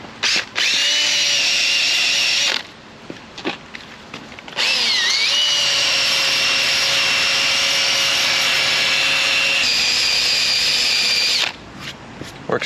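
A rubber eraser wheel on a power tool whines loudly while stripping residue from a GMC 3500 truck body, running steadily in two long bursts with a short pause between them.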